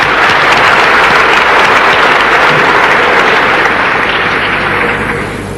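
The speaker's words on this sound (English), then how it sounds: "We must give him another applause." An audience applauds at a lecture, a dense loud wash of clapping that holds steady for several seconds and then begins to fade out at the end.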